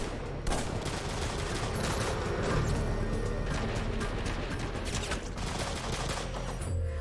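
Dense, continuous gunfire rattles in the video game Bloodshore, loud and close, with rapid overlapping shots and crashing impacts filling the whole stretch without pause.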